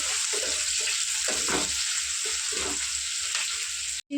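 Sliced onions fry steadily in a pan, giving a continuous close sizzle with a few brief stirring scrapes and no voices.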